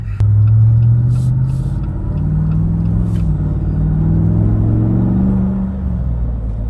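A Jeep with a 426 engine idles smoothly and loud up close, a deep steady rumble with slight swells in pitch and no talking over it.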